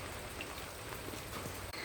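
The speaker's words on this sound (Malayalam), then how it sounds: "രാവിലെ തന്നെ നല്ല മഴയാണ് കേട്ടോ" Morning rain falls steadily outdoors, a faint, even hiss of drops on surfaces with no talking.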